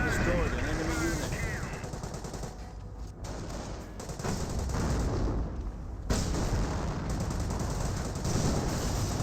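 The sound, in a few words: gunfire from Firefly tank in video game Company of Heroes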